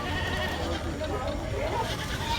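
Goats bleat amid a busy, noisy crowd at a Kerala festival livestock market, their cries mixing with constant chatter and background commotion.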